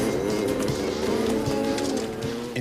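A cattle herd in the Australian outback lows continuously, with overlapping moos forming a dense, steady drone and no clear gaps.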